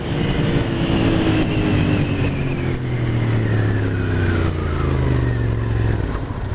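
A Royal Enfield Interceptor 650 motorcycle accelerates smoothly through the gears, its steady engine drone loud and close with a gently rising pitch and no talking.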